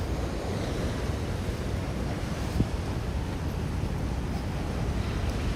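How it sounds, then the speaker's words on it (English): Ocean surf washing onto a shoreline with steady wind buffeting the microphone, a continuous broad roar with no distinct breaks, recorded outdoors on a city waterfront. "The waves crashing to the shoreline."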